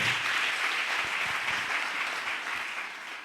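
A church congregation applauds, with dense, sustained clapping from many hands that stays loud and then fades slightly toward the end, and no clear voices over it.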